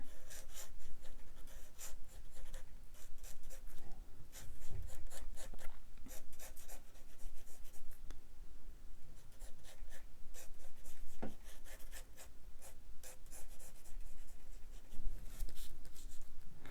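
Pencil scratches and rubs steadily on paper pinned to a drawing board while sketching Ahsoka Tano, a close, continuous run of short strokes and soft scrapes with a few light taps, no talking.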